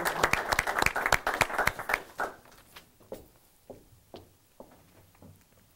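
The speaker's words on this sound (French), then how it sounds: "Une bonne main d'applaudissements." Applause at a Victoriaville city council meeting, honoring an award recipient: a burst of clapping from the room that thins out after a couple of seconds into scattered, fading claps.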